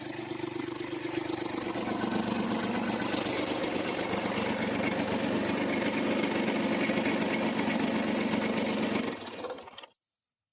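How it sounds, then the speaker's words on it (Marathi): A tractor-mounted mulcher cutting grass between rows in a pomegranate orchard, its engine roaring loud and steady with a rough, churning drone before shutting down abruptly near the end. "आपल्याकडं ट्रॅक्टर माउंटेन मल्चर आहे या मल्चरने आपण मधल्या पट्ट्यातलं जे काय गवत आहे ते उडवतो"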